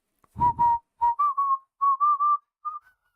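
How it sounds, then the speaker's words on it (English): A whistled melody of about ten short, clear notes in a bouncy rhythm from a song, with a couple of soft thumps at the start. "I knew the whistle track from it"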